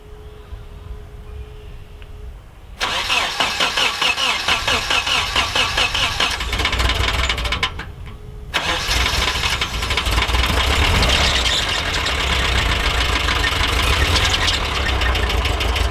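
A Nissan 240SX sits quiet with a faint fuel pump hum, then its engine cranks and catches into a loud, steady idle, briefly drops out, restarts and keeps running evenly up close.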